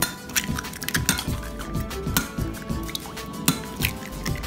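Four eggs going into a keto pumpkin cheesecake mixture in a bowl: soft wet plops and squishes mixed with light clinks of a utensil against the dish, close and fairly quiet.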